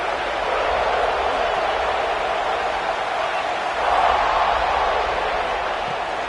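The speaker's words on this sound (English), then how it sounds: "the home crowd going absolutely bananas" Home crowd at a college football game making a loud, steady roar of cheering and noise, sustained throughout and swelling slightly midway.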